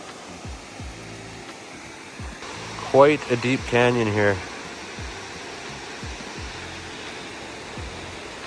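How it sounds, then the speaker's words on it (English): Lower Naramata Falls rushes steadily below a deep canyon near Penticton in the Okanagan Valley, British Columbia, a constant broadband roar heard from a distance while someone speaks briefly and footsteps crunch over it. "Decent view of the waterfall right there."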